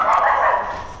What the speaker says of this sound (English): And there you have the dog.